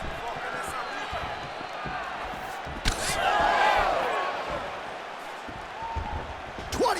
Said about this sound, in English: the crowd absolutely loving it